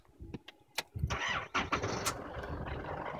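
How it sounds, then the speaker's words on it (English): A 3-litre turbo diesel in a 2011 Holden Colorado LTR dual-cab ute cranks with a few short clicks and bursts, then catches and settles into a steady, close, fairly loud running rumble, with no talk over it. "Now I'm just going to start the car for you"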